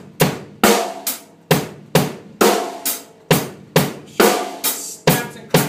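A drum kit pounds out a stomp-stomp-clap pattern, two quick low hits followed by a sharp crack, repeated steadily and loud with no voices.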